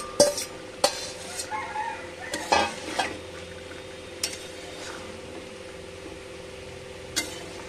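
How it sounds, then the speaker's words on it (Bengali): Mutton being sautéed with potato and papaya without water, a quiet low sizzle under sharp intermittent clanks and scrapes of a spoon stirring against the pot. "মাংসতে কিন্তু আমি জল দিইনি, আলু পেঁপেটা দিয়ে আমি কষিয়ে নেব।"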